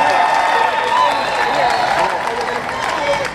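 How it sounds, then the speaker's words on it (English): A large contest crowd cheers and applauds for an Elvis tribute act, a dense, steady roar of clapping and shouting that stays loud throughout and eases slightly near the end. "just everybody give a big cheer for Elvis himself up there"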